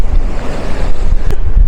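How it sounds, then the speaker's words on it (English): Strong coastal wind buffets the microphone in a loud, continuous rush under stormy skies, with a dull surf-like roar beneath it over a short stretch. "it's very windy, very ominous clouds"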